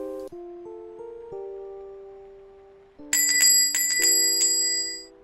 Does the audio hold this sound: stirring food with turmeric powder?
no